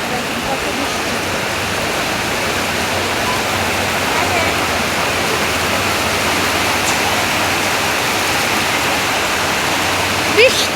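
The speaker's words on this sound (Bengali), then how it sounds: "দেখেন কত জোরে বৃষ্টি আইছে" Heavy rain pours down in a village, a dense, loud, steady roar of drops and runoff that continues unbroken throughout, with a brief faint knock near the end.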